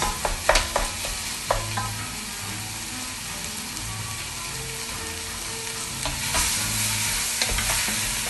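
Pork and beef mince fry in a pan, a loud continuous sizzle with clattering spoon scrapes and knocks near the start and scattered stirring throughout.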